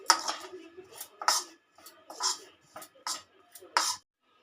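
Raw garlic is stirred into cauliflower chutney in a pan. A utensil clinks and scrapes against the metal in quick clattering bursts, separated by short quiet gaps.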